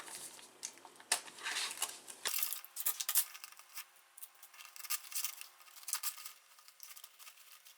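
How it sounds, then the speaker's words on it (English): Small scissors snipping embroidery threads off an in-the-hoop window ID holder, a series of quiet, close, irregular crisp snips and rustles with brief pauses between them. "and then trim our threads"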